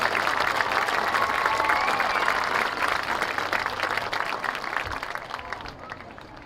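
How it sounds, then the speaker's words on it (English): Crowd applause at a high school homecoming coronation before a football game, a dense, sustained clapping from a large audience that stays loud and slowly thins toward the end. "please give these girls another round of applause"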